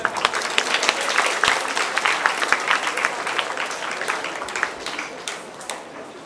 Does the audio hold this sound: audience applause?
yes